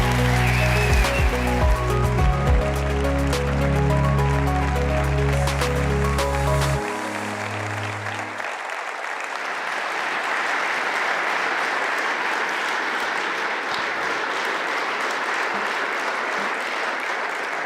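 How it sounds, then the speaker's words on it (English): Conference audience applauds Robert Habeck at the Berlin Energy Transition Dialogue, a dense, steady wash of clapping lasting the whole stretch, with loud amplified music cutting off early on. "A big applause for Robert Habeck."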